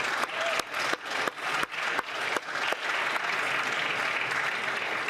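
Applause from members in the House of Commons chamber, a few sharp bursts giving way to steady sustained clapping that fills the room.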